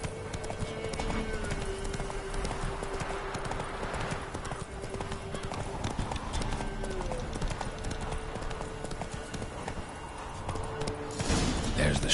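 Roach, the horse in The Witcher 3 game, gallops with rapid, continuous hoofbeats up close, ending in a short whinny, while faint speech sits beneath the pounding rhythm.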